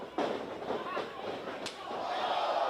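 A heavy elbow strike lands in a PCW Ultra professional wrestling match, a sharp slap echoing through the venue, followed by a second crisp impact over a steady roaring crowd.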